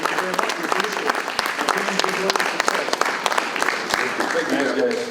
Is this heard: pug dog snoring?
no